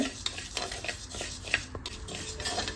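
Urad dal being dry-roasted in a pan and stirred steadily, giving a continuous rattling scrape of grains and spoon against metal with small clinks, close and moderately quiet throughout.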